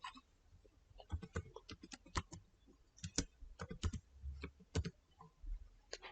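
Quick bursts of keystrokes on a computer keyboard on a Windows 10 PC, close and fairly quiet, irregular clusters of sharp clicks with brief pauses between, no talking.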